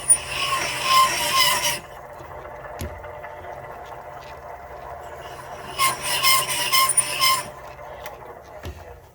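Machining cutter leveling a Ford DOVE cylinder head, two bursts of harsh scraping and rasping metal cutting separated by a quieter whirring stretch with a few faint clicks.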